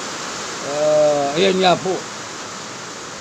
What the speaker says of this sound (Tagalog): Siguro naririnig niyo po yung malakas na buhos ng ulan.